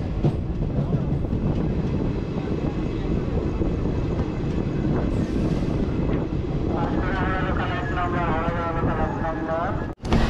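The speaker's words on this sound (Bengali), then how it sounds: "নির্ধারিত সময়ের থেকে 19 মিনিট লেটে আমাদের ট্রেনটি তার দ্বিতীয় স্টপেজ মেছেদা জংশনে আসলো" The Santragachi–Puri Jagannath Express pulls into Mecheda Junction with a loud, continuous rolling rumble, then a wavering high-pitched screech of brakes rises during the last few seconds.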